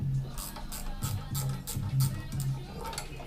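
A hand ratchet loosening bolts on a Bridgeport milling machine, giving repeated short bursts of fast clicking in a steady rhythm, close and clear over a low hum.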